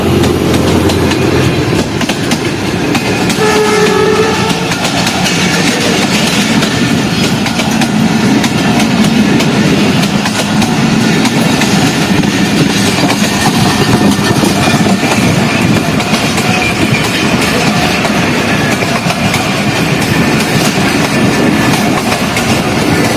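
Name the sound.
passenger train passing, Peshawar to Quetta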